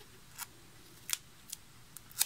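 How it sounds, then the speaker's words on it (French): Several crisp scissor snips sound at uneven intervals against a quiet background, close and distinct. "Je vais commencer avec une paire de ciseaux classiques."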